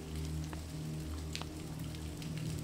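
Rain splatters softly on a pond by a willow cottage at night, a faint, steady patter of drops over a low background hum.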